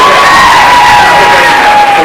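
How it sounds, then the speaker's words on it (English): Keynote audience cheering and applauding, a loud, close roar of crowd voices with whoops and clapping blended into a continuous wall of sound, with no speech over it. "Miss Jess Glazer, a massive round of applause."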